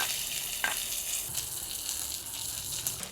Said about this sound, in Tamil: நல்லா எண்ணெயில் வதக்கி கொள்ளுவோம்.